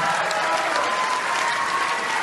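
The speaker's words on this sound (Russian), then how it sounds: "Аплодисменты юному товарищу Ержасим!" Steady, dense applause from a large studio audience at a televised children's singing contest, loud and continuous throughout with no pauses.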